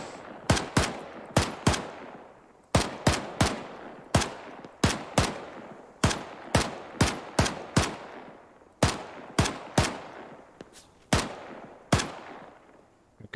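Rapid bursts of automatic rifle fire in an Arma 3 firefight on the Antistasi mod, loud and close, with sharp cracks in quick clusters and brief pauses between bursts, no talking.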